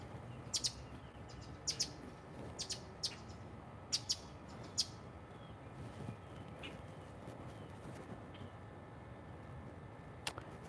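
Several birds chirp in a garden, with short sharp tweets arriving in small clusters over a faint, steady outdoor hiss, fairly distant and soft.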